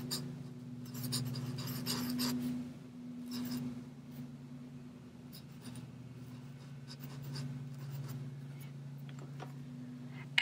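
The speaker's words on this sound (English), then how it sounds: "so I'm going to write Michelle Obama" Pen tip scratching across paper while hand lettering calligraphy, a close, soft and steady rubbing stroke sound with brief pauses between letters, no voices.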